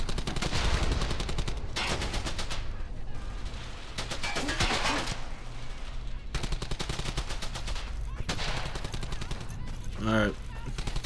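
Bursts of automatic gunfire in the World War II shooter Brothers In Arms: Hell's Highway come loud and close in repeated volleys with short gaps between them, and a voice briefly cuts in near the end.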